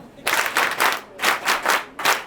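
A crowd at a school prize-giving ceremony claps again in a patterned rhythm, sharp bursts of applause repeating in quick groups, near and loud with short gaps between them.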